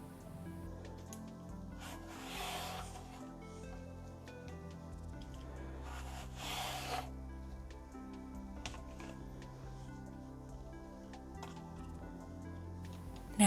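A handheld peeler drawing long strips from a raw zucchini, two distinct wet scraping strokes a few seconds apart followed by faint softer rubs, quiet over low background music.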